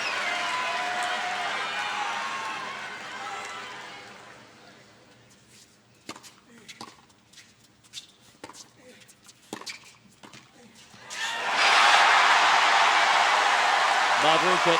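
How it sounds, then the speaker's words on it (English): A tennis crowd at Louis Armstrong Stadium during a US Open match roars loudly, fades to scattered claps and shouts, then swells again into a big sustained cheer, with a commentator's voice over the early part. "Crowd rising here at Louis Armstrong Stadium"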